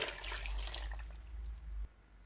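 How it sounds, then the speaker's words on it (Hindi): Water poured into a cooking pot for aloo keema, a steady, close splashing rush that runs for nearly two seconds and then stops abruptly. "तो अभी हम इसके अंदर पानी ऐड करेंगे।"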